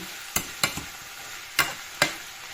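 Pork with bell peppers stir-fries in a pan under a low steady sizzle, punctuated by several sharp spatula scrapes and knocks at irregular intervals, close and without talk.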